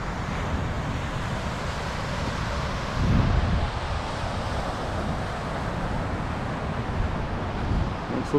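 Wind rushes and surf washes steadily at a beach in Phuket, a broad continuous roar with rumbling microphone buffeting and a slightly stronger gust or wave swell partway through, with no talking.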